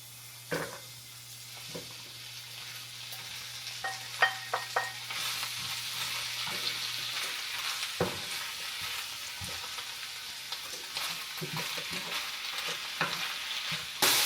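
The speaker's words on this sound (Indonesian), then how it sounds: "Ini udah harum, jadi saya tumis daun caisumnya." Caisim greens stir-fried in a pan for an Indonesian-style Korean bibimbap, with a soft continuous sizzle, scattered clinks and scrapes of a utensil, and a low hum in the first half.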